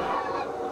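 Recorded goose calls played back at an outdoor site known as the Goose Dub, a short loud burst of honking and clucking fowl voices with no talk.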